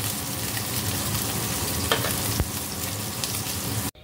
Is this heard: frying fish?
yes